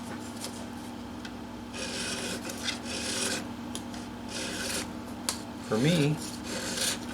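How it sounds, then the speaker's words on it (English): Metal file rasping across steel guitar frets while crowning them on a guitar being set up for low action, in repeated strokes of steady scraping, with a brief spoken phrase and a short higher squeal near the end. "I'm going to finish crowning them"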